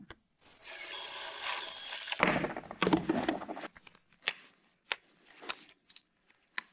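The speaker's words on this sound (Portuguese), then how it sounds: "Agora eu quero minha furadeira." A power drill whirs loudly for about two seconds at close range during work on a mini truck fitted with a Lexus V8 engine, then rattles and clunks as it is handled, followed by scattered clicks and knocks.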